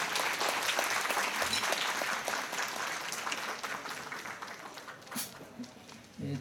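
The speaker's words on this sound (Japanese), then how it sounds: "フルゲルホルム小金津さんに大きな拍手をお願いします。" Audience applause follows a junior jazz orchestra piece at an outdoor cherry blossom festival stage in Tsuyama, Japan: dense, sustained clapping that gradually thins and fades toward the end.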